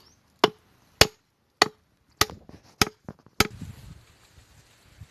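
Six sharp, heavy strikes land at roughly even intervals as wooden stakes are hammered into the ground, each impact ringing briefly before the next, followed by faint rustling.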